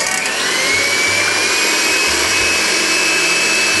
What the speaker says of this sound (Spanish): Ya tengo separadas las claras de las yemas y empiezo a batir.